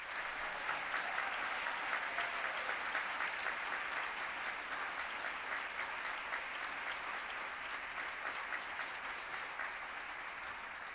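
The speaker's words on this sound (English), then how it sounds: "please join me in another round of applause" An audience at an International Women of Courage celebration gives sustained, even applause, a steady rattle of many hands heard from a distance and fairly soft throughout.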